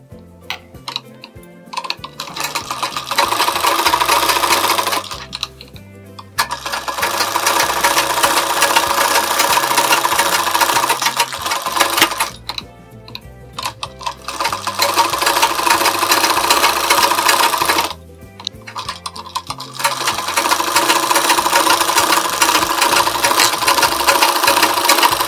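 A sewing machine stitches along the edge of a lined blouse in steady, rapid runs, each lasting several seconds, broken by short pauses, close and fairly loud.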